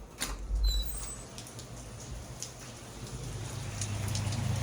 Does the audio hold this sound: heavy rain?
yes